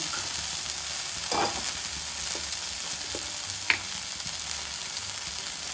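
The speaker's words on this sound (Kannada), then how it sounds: "ಈಗ ಇಷ್ಟು ಚೆಂದಾಗಿ ಫ್ರೈ ಆಗೈತಿ" Horse gram (hurali kalu) fries in a pan with a faint, steady hiss, broken by a few soft ticks and clinks from stirring.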